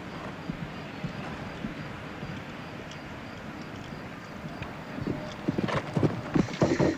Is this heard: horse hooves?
yes